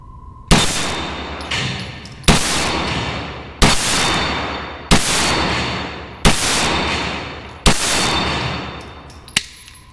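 A Kel Tec Sub 2000 9mm carbine fires six loud, sharp shots at roughly one-second-plus intervals, each with a ringing tail, close up outdoors, followed by a faint metallic ping.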